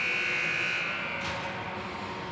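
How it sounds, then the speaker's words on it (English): A loud, sustained electronic buzzer ending an ice hockey period drones for about a second over the steady roar of an arena crowd, then the crowd noise carries on. "There's the buzzer."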